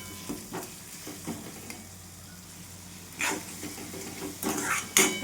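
Masala and chopped bell pepper frying in hot oil for a spicy capsicum stir-fry, with soft steady sizzling, a few spoon scrapes and stirring clinks, and brighter bursts of crackle near the end.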